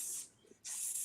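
A misting spray hisses in two bursts, a steady high hiss that cuts out briefly and then resumes, close and alone.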